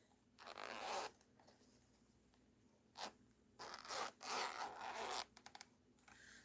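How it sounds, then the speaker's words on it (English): Zipper on a hard zippered camera lens case being pulled open, quiet bursts of rasping zip strokes separated by short pauses, with no talk. "So it comes in this nice case, right? A nice zippered case. It's a hard case."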